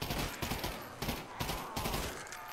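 Rapid bursts of gunfire from a VR Der Riese zombies game, with repeated volleys at a steady rhythm and dense crackling that carries through the whole stretch with no voice over it.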